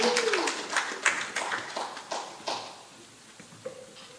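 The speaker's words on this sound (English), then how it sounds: "could we have a round of applause for our champion?" A church congregation claps for a Canada Day champion receiving a flag, a brief round of light, scattered hand claps that thins out and fades away within a few seconds.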